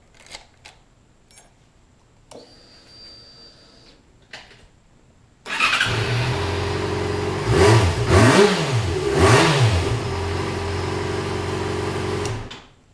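A motorcycle fitted with its stock exhaust starts up and idles loudly, then blips the throttle in several quick revs that rise and fall before settling back to a steady idle, heard up close with no talking.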